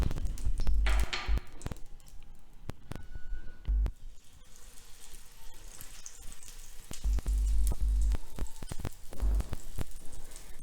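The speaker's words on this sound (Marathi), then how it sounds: "पॅनमध्ये तूप टाकायचे आणि ह्या तुपावर छान खमंग पराठा भाजून घ्यायचा आहे" Paratha roasting in ghee in a pan for a palak paneer lifafa, giving a steady close sizzle and crackle with a few sharper spatters and stirring knocks throughout, no voices.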